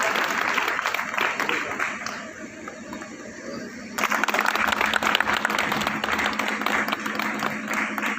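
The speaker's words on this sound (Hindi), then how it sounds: "जोरदार तालियों से स्वागत अभिनंदन।" Audience claps for a welcome at a foundation trust inauguration in Doriganj, the applause dipping briefly before surging back loud and steady, many hands close by with murmuring voices mixed in.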